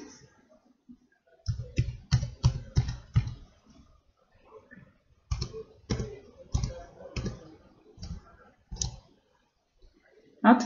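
Someone types a password on a computer keyboard, giving bursts of close, quiet key clicks in quick runs with short pauses between them.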